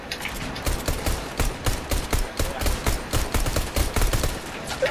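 Gunfire in a video game, with sharp shots cracking in quick, dense succession across the whole stretch. They are loud and close, with no talk over them.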